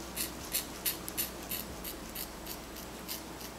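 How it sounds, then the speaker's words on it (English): Scissors snip through the hair of a kinky straight wig in a quick, steady run of about a dozen close, crisp cuts, with no talking. "let me cut it one more time."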